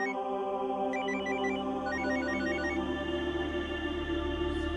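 A telephone rings steadily in a quiet indoor scene from a Hindi TV drama, its repeating electronic ringtone pattern loud and clear with no talking over it.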